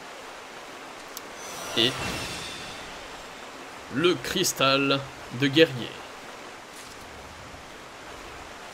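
Waterfall in Final Fantasy XIV, a steady broadband rushing roar running throughout at even level while someone talks briefly over it.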